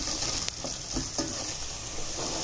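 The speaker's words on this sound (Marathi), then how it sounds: "चांगलं परतून घेऊया. बघा किती छान रंग आलाय फोडणीला." Spice tempering sizzles steadily in a pan for Bhandari-style broad bean gravy, with occasional stirring scrapes over the continuous frying hiss, close and fairly loud.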